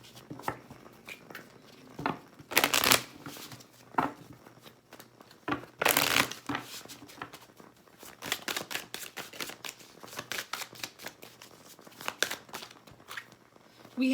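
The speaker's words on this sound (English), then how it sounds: "Let me pull an oracle card." Oracle cards are shuffled and handled close up, with bursts of papery riffling and slapping between softer crinkles and taps, irregular and fairly quiet throughout.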